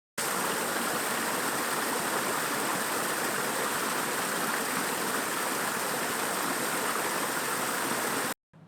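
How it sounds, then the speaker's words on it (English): A garden koi pond waterfall pours continuously, a loud, steady rushing splash that holds unbroken before cutting off at the end. "And the waterfall, which is beautiful"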